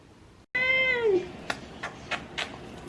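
A gray kitten gives one clear, close meow that falls in pitch, followed by a few soft clicks and taps.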